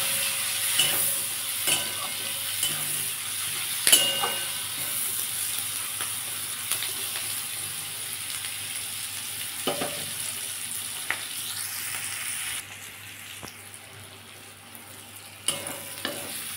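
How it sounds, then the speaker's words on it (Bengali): Greens and turmeric fry in a pan with a constant low sizzle, punctuated by occasional sharp clinks and scrapes of a utensil stirring against the pan. "এটা ভালো করে একটু ভেজে নেব।"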